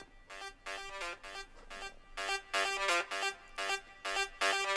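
A second layer of a guitar-like synthesizer arpeggiator patch, brighter and crisper in its highs, plays tight rhythmic bursts of short stabs that pulse in a repeating pattern, fairly quiet and heard alone.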